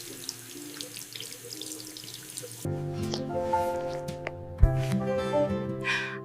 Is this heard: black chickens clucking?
no